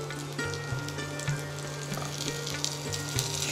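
Potatoes and pointed gourd frying in hot oil for labra, a close, steady crackling sizzle with occasional stirring clatter, and no talking.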